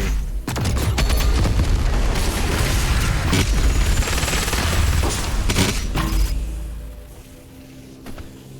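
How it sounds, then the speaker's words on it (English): DOOM Eternal's BFG fires on the Ultra-Nightmare Taras Nabad master level: a loud, dense roar of blasts and crackling bursts that holds for about six seconds, then drops away into a quieter low rumble. "so I'm using the goddamn BFG"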